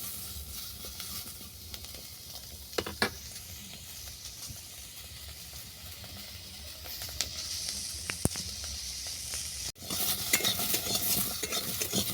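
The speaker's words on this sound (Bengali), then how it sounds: "এই কুঁদরুটাকেও আমি ভালো করে ভেজে নেব।" Ivy gourd (kundru) with a little salt frying in a pan, a quiet continuous sizzle broken by occasional sharp clinks of the stirring utensil against the pan, growing louder and busier near the end; no speech.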